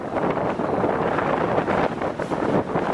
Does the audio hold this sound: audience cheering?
no